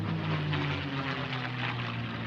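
A World War II propeller airplane flying aerobatic maneuvers at an air show, its engine giving a steady, droning roar with a sustained low hum throughout, fairly close and unbroken, with no talk.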